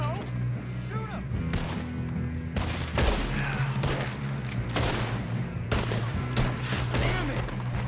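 Gunfire in the video game Red Dead Redemption 2 comes as loud, close, sharp shots in irregular bursts. A steady low hum sits underneath, and brief voices are heard between the shots.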